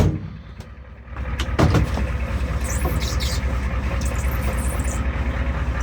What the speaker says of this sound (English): she runs just like a diesel